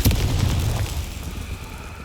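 A Confringo spell blast in Hogwarts Legacy, one booming explosion at the start that rumbles and fades over about two seconds.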